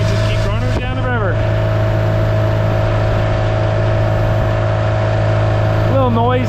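Inboard motorboat engine on a Junky Raven 195, running with its cover off, a loud steady drone with strong low harmonics as the boat cruises down a river, with brief whistling tones near the start and end.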